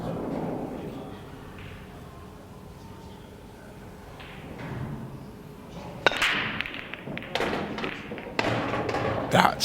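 A pool break shot in a professional pool masters match: a sharp crack as the cue ball strikes the pack, followed by a quick clatter of balls scattering across the table, heard against arena ambience with commentators talking.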